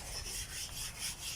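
Coconut being grated by hand, heard as a steady rhythmic rasping scrape repeated several times in quick succession, close and fairly quiet, with no talking.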